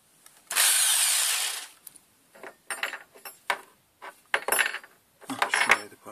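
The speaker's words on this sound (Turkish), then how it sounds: "Orayı matkapla deleceğiz." A power drill bores into a plastic wiper arm part from a Renault R9 Broadway, a sharp whining burst up front followed by several shorter bites and clatters as the bit is repositioned.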